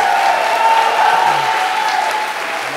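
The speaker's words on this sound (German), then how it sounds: "Ein Riesenapplaus bitte nochmal für alle 7 Slammer des Abends." Loud, dense applause from an audience at a science slam event, a brief continuous burst of close clapping that fades slightly at the end.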